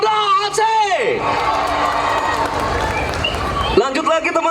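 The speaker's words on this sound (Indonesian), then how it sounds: "Tepuk tangan sekali lagi buat Polda Aceh." A large outdoor crowd at an Aceh Police expo concert cheers and claps loudly for the Aceh police, a dense roar of voices and applause sustained for a few seconds between stretches of talk over the PA.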